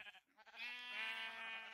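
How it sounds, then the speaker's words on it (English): A sheep in the video game Minecraft gives a single, faint, drawn-out nasal bleat lasting over a second, heard alone without talk. "And then of course we have the sheep up here."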